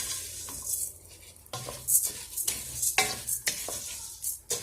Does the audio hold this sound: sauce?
yes